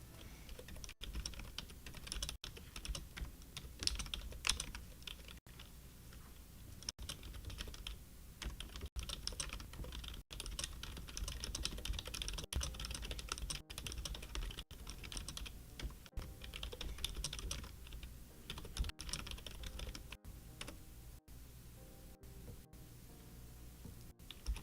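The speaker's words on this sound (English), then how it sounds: "I'm typing something, as you can hear on the microphone." Rapid, steady clatter of keys on a computer keyboard picked up close by a microphone, continuous for the whole stretch with brief pauses, quiet and crisp in an ASMR style.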